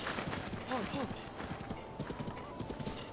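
Horse hooves clip-clop steadily at a quick pace in The Legend of Zelda: Breath of the Wild, with a whinny or snort mixed in, someone talking over the galloping rhythm.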